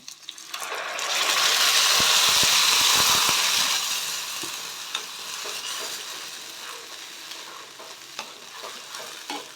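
Ground tomato-chili paste stirred into a hot frying pan for red momo chutney, a loud sizzling burst that swells and then settles into a softer steady fry with scraping stirs, close and with no talking.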